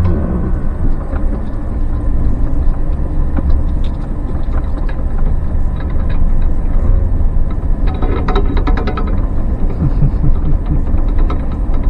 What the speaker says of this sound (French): Je vais passer avec le camion, avec mon autre camion dans le temps.